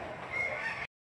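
Chickens at a livestock auction market in Lipa, Batangas, calling in a brief burst of fowl sounds that may include a crow, fairly loud for under a second before cutting to silence.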